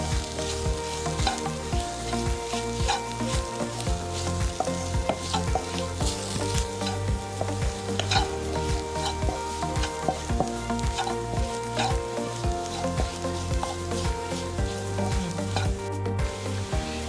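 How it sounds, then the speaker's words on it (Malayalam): Ground spice powders, amchur among them, sizzle steadily as they are stirred and sautéed in a pan for an aloo stuffed chapathi filling, with a close, continuous fry under rhythmic scraping strokes and no talk. "ഈ പൊടികളുടെ എല്ലാം പച്ചമണം മാറുന്നത് വരെ നമുക്ക് നന്നായി വഴറ്റിയെടുക്കാം"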